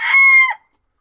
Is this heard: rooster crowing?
yes